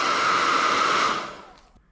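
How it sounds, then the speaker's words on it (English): A hair dryer blows a steady loud hiss over a charcoal drawing, then winds down and fades out near the end. "Okay, so I've dried it with a hairdryer"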